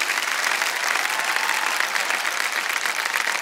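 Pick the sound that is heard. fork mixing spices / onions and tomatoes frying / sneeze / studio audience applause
studio audience applause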